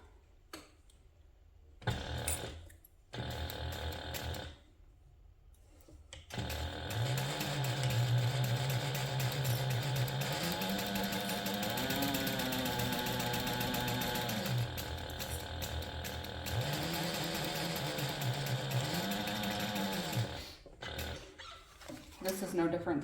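A sewing machine stitches handbag zipper pocket panels together with a quarter-inch seam, running in long mechanical whirring bursts that stop and restart, close and steady, with a few brief pauses between runs.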